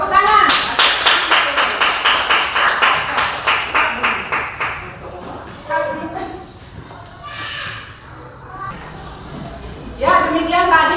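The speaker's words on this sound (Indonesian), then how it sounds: "Tepuk tangan." Students in a classroom clap for a classmate's presentation, a loud rhythmic burst of claps lasting about five seconds before fading into murmured talk, with another short round of clapping near the end.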